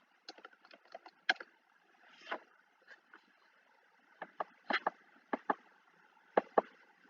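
Irregular keystrokes on a computer keyboard while entering a medication into an electronic nursing charting program: sharp close clicks, sparse at first and then in quicker clusters, with no talking.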